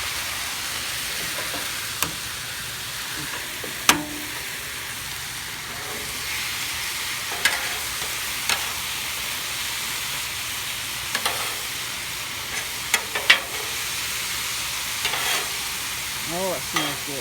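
Fried rice frying on a Blackstone griddle after teriyaki and soy sauce go in, a steady close sizzle with intermittent spatula scrapes and clicks.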